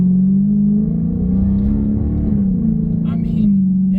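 Dodge Challenger engine revving hard under heavy acceleration, a loud, close, sustained low growl that rises and holds its pitch, with a voice briefly heard near the end.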